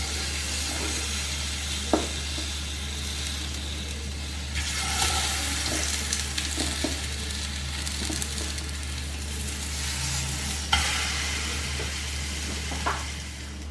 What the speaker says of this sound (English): I'm going to fry the other plantain pieces also